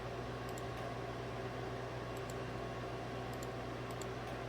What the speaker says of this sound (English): I want to check the vent valve first. Should actually hear that thing clicking.